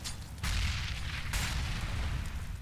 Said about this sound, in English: A lot of incendiary grenades going in towards T-Con.